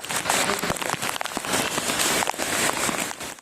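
Heavy monsoon rain pours down in the eastern areas of Ahmedabad, a loud, dense, continuous roar of drops hammering surfaces with sharp splashes throughout.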